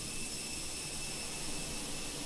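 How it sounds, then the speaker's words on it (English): Simulated CFM56 jet engines on a Fenix A320 airliner in a flight simulator game, a steady broadband roar with a high whine, constant and fairly loud without talk. "for our final sound check, we have the Fenix A320 with the CFM56 engines"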